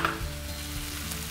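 Chopped green bell pepper sizzles in a frying pan with a steady, close, even hiss of frying and no voices.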